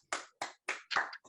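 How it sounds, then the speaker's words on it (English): A few hands clap after a research presentation, five distinct, evenly spaced claps, quiet and close, with silence between each one. "Let's give her another round of applause."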